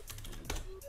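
Rapid, steady clicking of keys on a computer keyboard during a typing session, close and clear with no voices.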